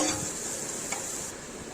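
Spices frying in a wok until lightly browned for a jackfruit curry, a soft continuous sizzle with faint stirring close by, brief and steady, no voices.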